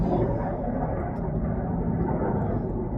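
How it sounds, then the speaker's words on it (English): Military airplanes flying overhead near a parked van, a loud, steady broadband roar that holds constant and close for the whole stretch, with no talking over it. "so airplanes are flying overhead"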